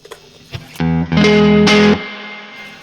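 An electric guitar through a Universal Audio Paradise amp with reverb switched on plays a few distorted notes and a sustained chord that ends abruptly, leaving a short reverb tail.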